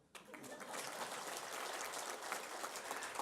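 A church congregation applauding at a Christmas service, steady clapping of a crowd that starts abruptly and holds fairly quietly throughout.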